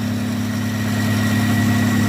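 A 1995 Nissan pickup's 3.0L six-cylinder engine with nearly 500,000 miles idles close by with a Flowmaster 40 exhaust, making a steady, even, low rumble with slight vibration throughout.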